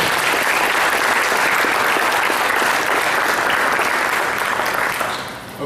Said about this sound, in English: give them a huge round of applause, please.